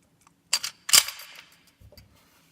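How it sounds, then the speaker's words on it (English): A Colt 1911 pistol slide is rocked back during disassembly, giving a couple of sharp metallic clicks and a brief scrape, close and clear in a quiet room. "Rock the gun all the way back"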